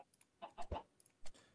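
A few short, soft chicken clucks in quick succession from Minecraft, fairly quiet and alone.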